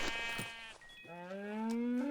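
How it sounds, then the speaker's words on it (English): A sheep in Minecraft bleats, two wavering cries with the second longer and clearer, close and alone with no talk. "we do need to find one more sheep"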